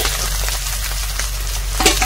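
Fish pieces fry in hot oil with a steady, close crackling sizzle and a faint stirring scrape near the end, no voices over it.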